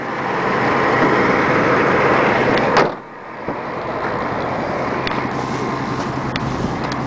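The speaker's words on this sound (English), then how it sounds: "You hear the motor sounds good." A 2000 Chevy box truck with its engine running, giving a steady close rumbling idle, then a brief thump and a dip in level before the idle carries on.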